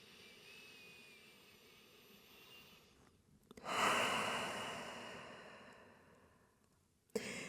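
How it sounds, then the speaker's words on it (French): A deep breath drawn during a yoga session, a long soft airy inhale swelling then slowly fading, followed by a brief sharper breath at the end, close and quiet with no talking. "On prend une dernière grande respiration ici."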